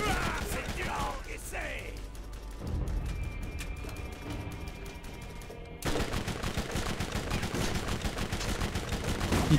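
Video game gunfire in Borderlands, bursts of rapid machine-gun shots crackling at close range, with a pause in the middle before a loud sustained stream of fire resumes.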